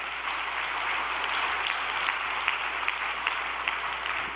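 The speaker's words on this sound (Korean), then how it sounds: "우리 박수 한번 올려드립시다." A church congregation gathered for evening prayer claps in a sustained, even round of applause, fairly distant and moderate in level, with no speech on top.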